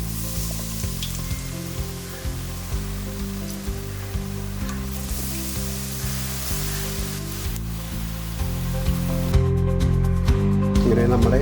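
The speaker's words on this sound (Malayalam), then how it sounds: "നമുക്ക് ഒരെണ്ണ എടുത്തിട്ട് തിളച്ച എണ്ണയിലോട്ട് ഇട്ട് കൊടുക്കാം" Battered breadfruit (kadachakka) bajji fritters dropped into hot oil give off a steady, moderately loud sizzle that continues under background music throughout.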